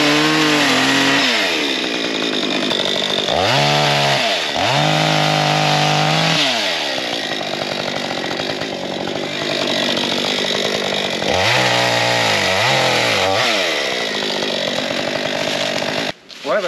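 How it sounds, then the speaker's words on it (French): A chainsaw cuts branches while clearing ground for an enduro and pit bike track, its engine loud and close, revving up and bogging down in repeated bursts as it bites through the wood. "Tu peux m'amener la tronçonneuse, Flo?"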